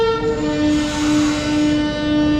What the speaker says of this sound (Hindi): तो दोस्तों ट्रेन हमारी आ चुकी है